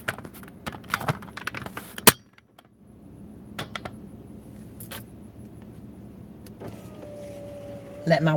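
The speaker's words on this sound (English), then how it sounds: "Let my window back up." A car's power window hums closed in a parked vehicle near a swamp, a brief motor whine near the end, preceded by scattered clicks, knocks and handling noises close by.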